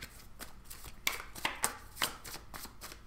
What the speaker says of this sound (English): I've pre-shuffled everything, but I like to let the cards come out